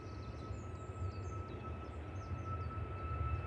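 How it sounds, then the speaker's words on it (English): A KLM Airbus A321neo airliner taxiing at Manchester Airport, a steady low engine rumble and drone with a faint high whine, heard from a distance, with fluttering outdoor noise above it. "Now we've got a KLM A321 Neo taxiing out"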